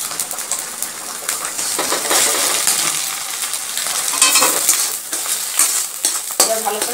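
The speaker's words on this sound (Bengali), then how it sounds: "তেল গরম হয়ে গেছে, তেলের মধ্যে ডিম দুটো ঢেলে দিচ্ছি।" Two eggs frying in hot oil for egg bhujia, a bright continuous sizzle with scraping and stirring of a utensil against the pan, close and moderately loud.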